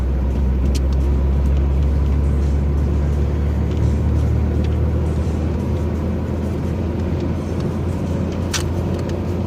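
Car driving along a road near Kuchurgan on the Odessa route, heard from inside as a constant loud low rumble of engine and tyres with steady road noise and a couple of faint clicks.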